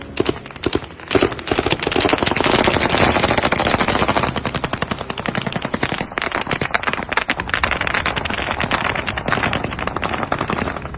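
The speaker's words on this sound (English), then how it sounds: "A Ukrainian drone pushing toward its target over Crimea through an enormous wall of Russian tracer fire" Heavy Russian tracer gunfire over Crimea, aimed at a Ukrainian drone, rattles in long dense machine-gun bursts with sharp rapid shots, loud and nearly unbroken for about eleven seconds.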